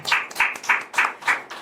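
An audience claps in five regular bursts at a Hindi poetry gathering, each a short, crisp round of applause with clear pauses between, close and fairly loud with no talking over it.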